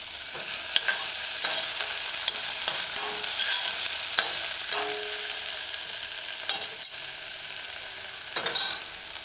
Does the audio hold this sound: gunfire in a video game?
no